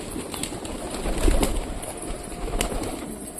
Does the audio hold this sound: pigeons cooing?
yes